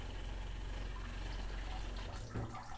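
Rinse water runs from the on-demand pump of a DIY closed-loop vapor blaster, a steady close splashing flow with low pump rumble throughout and a brief surge near the end.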